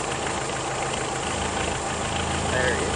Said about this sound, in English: The engine may have some problems.